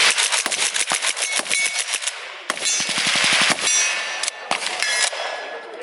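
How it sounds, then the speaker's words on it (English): Full-auto 9x39 AK rifle fired at an outdoor shoot, with rapid bursts of sharp cracks and metallic clanks, a tight rattling string of shots in the middle, and ringing echoes between bursts. "we went to the Iraq Veteran 8888 YouTube shoot and shot a full auto 9x39 AK"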